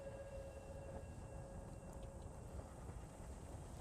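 Train running in the video game Satisfactory gives a steady, dense rumble with a faint mechanical whine on top, continuous and even, with no talking.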